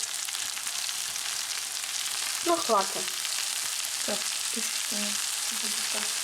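Steady hiss of corn frying in a pan with sour cream, continuous and close, with a few brief short voices breaking in midway.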